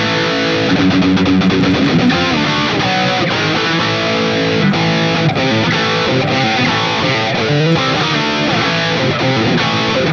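Heavy, distorted brown sound electric guitar played through a Quad Cortex, with a dense, continuous riff of chugging notes and bright overtones at steady loudness and no talking.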